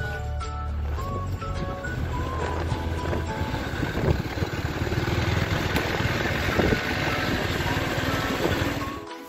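A boat engine runs on a river in a continuous rough, loud drone with wind noise buffeting the microphone, steady throughout without speech.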